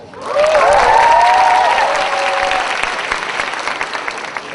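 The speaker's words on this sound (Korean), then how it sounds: "박수, 이 정도 박수 받고 사연 괜찮은 거예요." An audience at a free talk concert breaks into loud, sustained applause with some cheering and whistling near the start, then gradually thins out.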